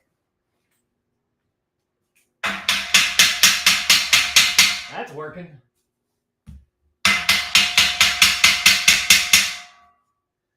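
Two quick runs of about a dozen sharp, ringing hammer blows each, driving garage shelving unit parts together, close and loud with a short pause between runs and someone speaking briefly.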